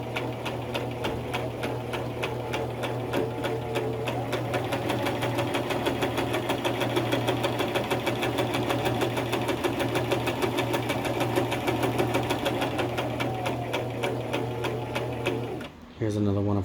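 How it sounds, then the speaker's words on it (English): A sewing machine stitches a pillow at steady speed under slow foot-pedal control, a loud, even mechanical whir with a rapid needle rhythm running for about fifteen seconds, then stopping abruptly. "let it just glide on through by slowly pushing on our foot pedal underneath the table"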